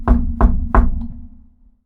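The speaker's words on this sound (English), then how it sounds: "someone suddenly knocks on the door to room 8" Three firm knocks on a hotel room door, evenly spaced and close, followed by a short fading resonance and then quiet, as a visual novel sound effect.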